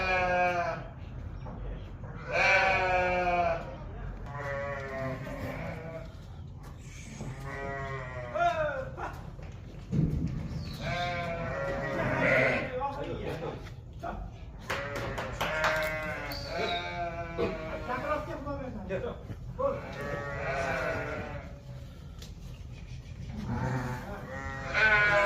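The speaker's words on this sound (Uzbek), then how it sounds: "Mana qo'ylar." Sheep on a farm bleat repeatedly and loudly, with overlapping calls from several animals near at hand filling the whole stretch, over a steady murmur of the flock.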